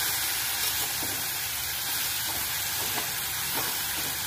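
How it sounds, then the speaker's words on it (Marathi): Dill and potato bhaji sautéing over a low gas flame, a steady soft sizzle and hiss with faint stirring scrapes, close and continuous with no one talking. "छान असं परतून घेऊया. कमी गॅसवरतीच परतायचं."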